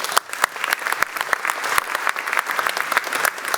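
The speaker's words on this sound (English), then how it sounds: "Can I have a big round of applause?" An audience at a climate talk about court cases breaks into sustained applause, with dense, even clapping from a crowd filling the room at close range.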